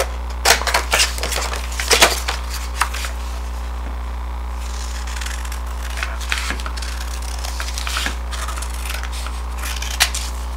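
Scissors snip through a glossy magazine cover in small clusters of crisp, close cuts spread over about ten seconds, set against a steady low electrical hum.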